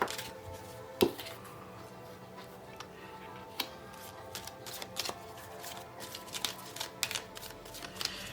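Tarot cards are shuffled close by in a quiet room, producing faint, irregular soft slaps and riffling taps scattered over several seconds.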